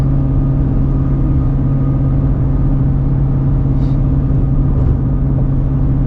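A 700-horsepower supercharged Shelby GT350 with a stick shift, heard from inside the car as it pulls: a loud, steady engine drone with a deep, even rumble that holds for several seconds, no voices.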